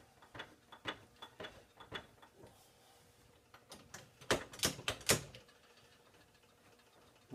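A quick change tool post tool holder on an AXA lathe setup is tightened: a run of light metallic clicks and ratcheting ticks, then a louder cluster of sharp clacks near the end, close up and quiet between.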